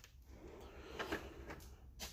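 A soft-close drawer on a blue Mac Tools Edge series tool box glides shut with a quiet, smooth slide and a gentle muffled stop, faint and fairly close.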